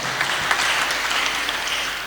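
A church congregation at a Kikuyu-language PCEA parish service claps together in steady, dense applause that fills the room evenly for a couple of seconds.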